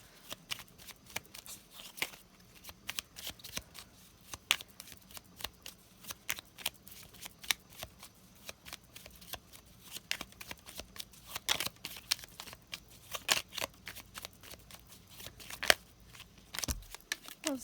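A deck of tarot cards shuffled continuously at close range, a dense patter of crisp card flicks and slaps repeating for many seconds, with no voices.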